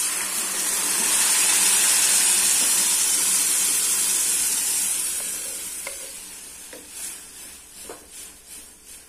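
Mashed lima bean dal tipped into a pan of sizzling sautéed onions: a loud, steady frying hiss that gradually fades, then softer stirring scrapes and bubbling pops near the end.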